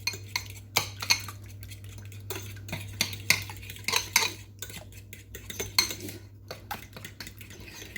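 A fork stirring a cauliflower mixture in a bowl, making irregular clinks and scrapes against the dish at a brisk uneven pace, close and fairly quiet over a faint steady hum.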